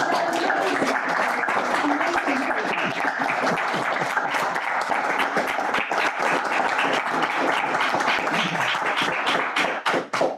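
Sustained applause from a house concert audience, dense clapping that stays loud and even throughout before thinning slightly at the end.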